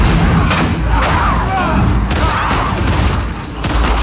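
Gunfire in The Last of Us Part 2, a loud, dense run of overlapping shots and booming impacts, continuous and chaotic across the whole stretch.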